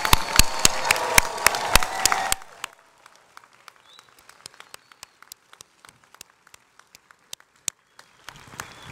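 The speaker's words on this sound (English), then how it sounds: "let's have one more round of applause for all our graduates today" A graduation audience breaks into dense, full applause that stops abruptly after about two seconds, leaving scattered single claps in near quiet before the clapping swells again at the end.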